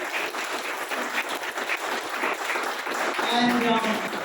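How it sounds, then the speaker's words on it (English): Audience applause after a talk at a live book event, a steady dense patter of many hands filling the room, with voices and some cheering mixed in toward the end. "Give a round of applause, guys."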